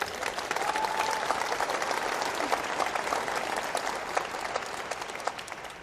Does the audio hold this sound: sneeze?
no